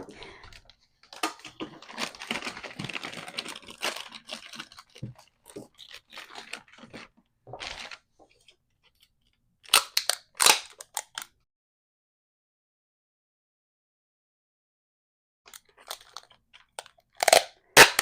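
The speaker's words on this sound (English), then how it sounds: "Then we're going to tape this here." Packing tape being pulled and wrapped around fragile penguin figurines during packing for a move, heard as long crackling, ripping stretches followed by short bursts of tearing and sticking, fairly close with pauses of silence.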